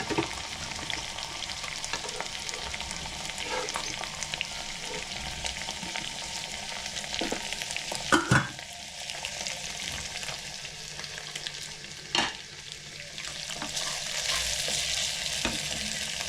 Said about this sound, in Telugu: రైస్ కలిపేస్తున్నా.